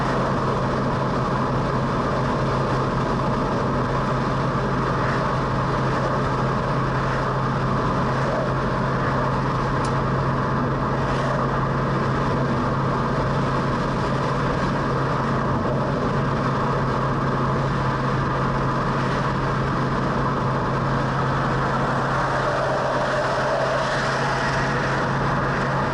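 A 1966 Ford Mustang with an FE engine cruises on the road at highway speed, a steady low engine drone and road rumble with no talking.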